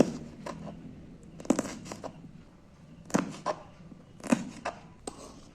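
A knife cuts green chillies into small pieces on a board, with sharp, close chopping clicks that come in small irregular bursts over a quiet kitchen background, and no one speaking.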